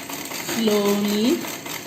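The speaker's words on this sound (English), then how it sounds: "then you continue stitching slowly" A vintage Butterfly sewing machine stitching slowly, a short steady mechanical hum with a rising whir at the end, heard close and fairly loud.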